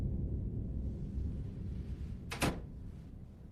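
A single sharp thud of a door shutting, brief and fairly close, over steady low background rumble.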